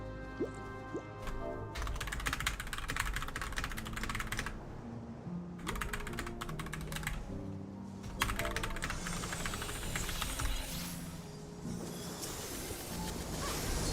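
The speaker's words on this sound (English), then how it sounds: "I'm typing it out so I don't forget." Computer keyboard typing during a Final Fantasy XIV session comes in bursts of fast, fairly quiet key clicks over a steady background of game music, with no speech.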